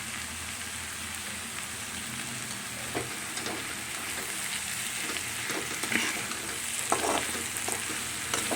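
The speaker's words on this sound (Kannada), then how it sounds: "ಉಪ್ಪನ್ನು ಹಾಕ್ಕೊಂಡು 1 ರೌಂಡು ಚೆನ್ನಾಗಿ ಮಿಕ್ಸ್ ಮಾಡ್ಕೊಂಬಿಡೋಣ" Salted vegetables being stirred in a pan for vermicelli upma, a continuous sizzle with scattered scraping and clinking strokes from the stirring, close and steady with no one talking.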